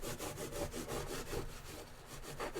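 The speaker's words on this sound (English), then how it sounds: "This is just destroying this piece of Scotch-Brite here, doing this." A Scotch-Brite abrasive pad scrubs back and forth across a knife blade during a marbled brushed finish, giving a loud, steady rasping with rhythmic strokes about four times a second, close and continuous with no talk.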